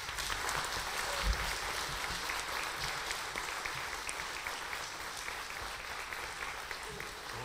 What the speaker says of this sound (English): So if everybody will give Gina a round of applause.